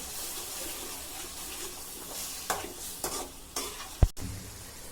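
Pureed tomatoes from four medium tomatoes frying in a pan for chicken vindaloo, a steady close sizzle broken by several scraping stirs and one sharp clack of a utensil near the end, with no voices.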